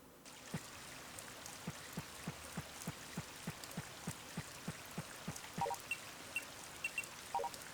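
Rain in a video game pours as a soft steady wash with regular patter and drips, quiet under a low game mix, joined near the end by small bright chimes.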